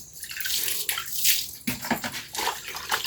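Something being washed under running water, a steady splashing, bubbling flow close by with brief breaks and changes in the stream, heard alone without talk.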